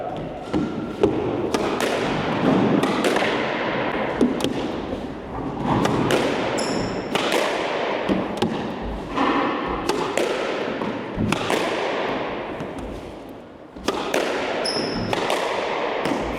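A squash ball is struck against the court wall during cone training drills, giving repeated sharp thwacks and thuds at a brisk, fairly even rhythm, with squeaking shoes and occasional talk between hits.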